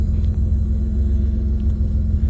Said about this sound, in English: I can hear a change in the engine from the exhaust